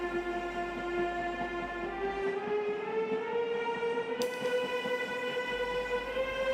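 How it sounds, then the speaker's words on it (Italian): Train slowing down, a sustained tonal whine of wheels and machinery gradually bending upward in pitch over a steady rumble, loud and close throughout with no voices. "il treno iniziava a rallentare"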